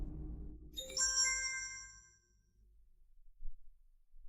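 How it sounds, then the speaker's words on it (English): A phone plays a short chiming text message notification, a few bright bell-like tones ringing out and fading after a low rumble, followed by quiet room tone. "Director Cole, his phone just vibrated"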